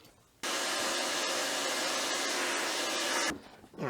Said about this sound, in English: I'm going to go ahead and vacuum it real quick anyway